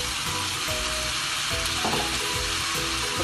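Okra (lady finger) fries in a pan as tomatoes are added: a steady close sizzle with occasional soft stirring scrapes and clinks throughout.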